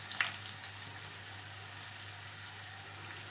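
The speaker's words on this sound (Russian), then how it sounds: "Жарить мы их будем до румяной корочки." Cheese rolls made with flour and baking soda frying in oil in a pan, a soft steady sizzle with faint crackling pops, quiet and close with no talking.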